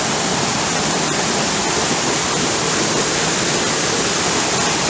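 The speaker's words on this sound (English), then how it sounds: "You can see how the water just etches through the rocks." Mountain water rushes over rocks near Rachel Lake, a steady, loud, broadband roar like a small waterfall or stream, continuous throughout with no talking.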